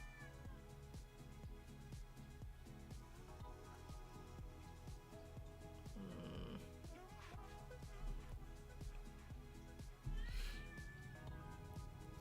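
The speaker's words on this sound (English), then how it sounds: "Can y'all hear the cat screaming in the back?" A cat meows and yowls faintly in the background, drawn-out cries rising twice over steady low household noise, quiet and distant, no talking.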